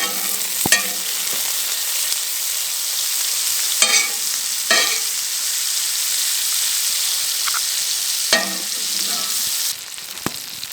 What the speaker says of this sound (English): Got some sausages. I think I'm only gonna cook one though.